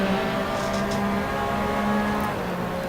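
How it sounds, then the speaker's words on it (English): A deep, thunderous Porsche 911 RSR GTLM race car engine at Road Atlanta in Assetto Corsa, a continuous loud droning roar with steady harmonics and slight pitch shifts as it holds speed. "The 911 RSR sounds like thunder."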